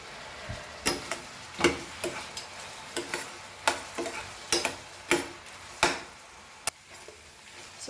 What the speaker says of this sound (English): Fry this very nicely till our onions are soft, and our chilies also